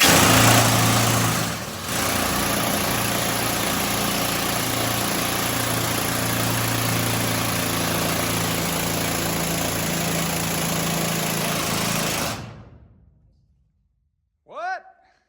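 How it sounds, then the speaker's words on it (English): A loud, continuous mechanical roar of a pneumatic column rock drill running steadily in a mine, stopping abruptly near the end, followed by brief faint sounds in the quiet. "That drill was loud, but I love it."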